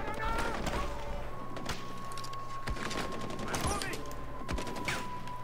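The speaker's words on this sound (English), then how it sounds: "No, they're shooting the hostages." Gunfire in Far Cry 4 as hostages are shot, rapid cracking shots over a steady game soundtrack, with mechanical clatter mixed in.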